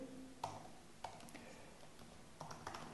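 Light, sparse keystrokes on a computer keyboard, a few soft separate clicks close by in a quiet room.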